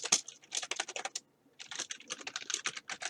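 Fingers type on a computer keyboard in quick, close, clicky bursts of keystrokes, with a short pause partway through before the typing resumes.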